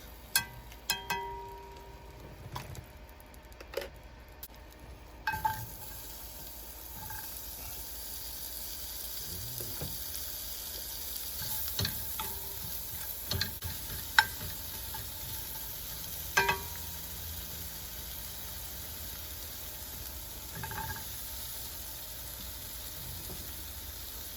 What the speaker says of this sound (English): Get some more butter in there for potatoes.